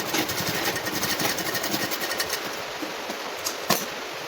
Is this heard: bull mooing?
no